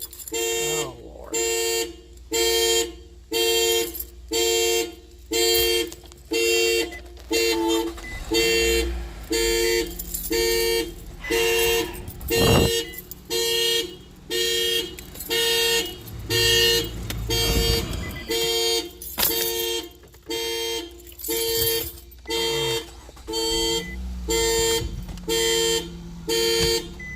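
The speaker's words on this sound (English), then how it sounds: "I accidentally hit the alarm" A car alarm set off by accident sounds close and loud, repeating rhythmic horn blasts in a steady on-off pattern for nearly half a minute, with a few brief background noises between.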